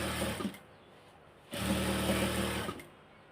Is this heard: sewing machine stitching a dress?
yes